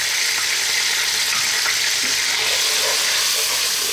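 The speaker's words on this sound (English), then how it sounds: "we're going to cook just these onions and garlic in that lovely oil that we've got there" Onions and garlic fry in oil in a pan for a chicken stew, giving a loud, steady, close hiss and crackle with no pauses.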